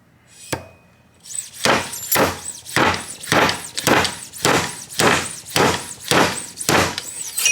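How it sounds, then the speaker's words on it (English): Repeated heavy metallic impacts from a slide hammer, about nine sharp blows in a steady rhythm, loud and close, after a single earlier knock, during a Dirty Air Ride fat tire kit installation. "Slide hammer."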